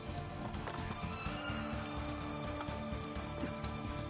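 Horse hooves gallop in a steady, rapid clatter against a dense background of ambient noise and faint scattered sounds, in the video game Assassin's Creed II.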